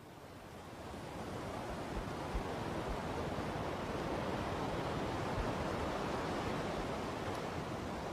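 Steady roar of sea waves breaking along the Moroccan coast, a dense, continuous wash of surf with wind, building slightly at the start and then sustained and loud throughout, with no voices.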